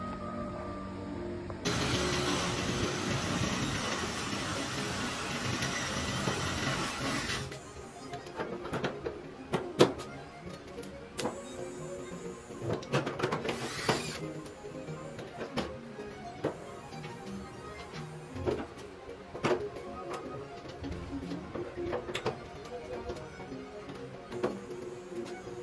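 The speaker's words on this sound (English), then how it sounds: "replace the metal that was missing with this little piece here and TIG weld that in" TIG welding a small metal patch into a Model A coupe trunk hinge, a loud steady hissing buzz running for several seconds, then quieter intermittent crackles, taps and workshop clatter.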